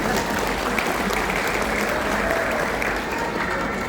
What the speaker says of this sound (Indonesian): Nggak ada tepuk tangannya ya